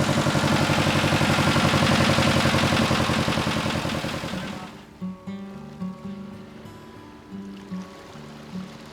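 Diesel boat motor running loud and steady after a leaky fitting was tightened, then cutting out, leaving quieter water and clunking sounds of a sailing boat.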